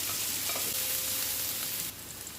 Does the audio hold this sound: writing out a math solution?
no